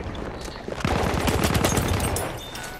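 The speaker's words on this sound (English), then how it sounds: "They all shot at me." Rapid gunfire from the Battlefield 1 Smoke City map, a dense burst of many overlapping shots in quick succession that swells loud after a quieter start and continues steadily without talk.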